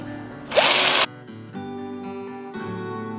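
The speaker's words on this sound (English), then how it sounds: "he's going to drill holes in them now" A power drill whirs loudly for about half a second while drilling holes in a goat feeder, then stops, leaving a low mechanical hum and faint clatter in the background.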